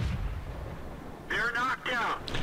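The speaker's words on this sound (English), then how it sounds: "Spots out this T-34, so has a quick shot" A tank cannon firing in World of Tanks gives a deep, booming blast at the start that rumbles on underneath as a voice commentates over it.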